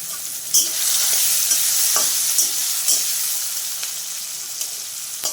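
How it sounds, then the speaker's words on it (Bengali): Spices with turmeric are stirred and fried in a pan, giving a loud, steady sizzle with sharp scraping strokes of the spoon at irregular intervals and no talking. "দেবো অল্প হলুদ দিয়ে নাড়াবো তারপর দেবো একটু নুন"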